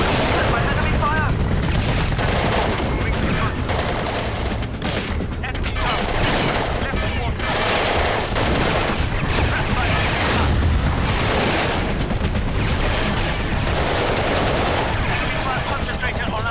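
Dense, continuous video game gunfire and explosive booms roar without letup, loud and close, with rapid volleys overlapping into a constant barrage and a voice heard amid the din.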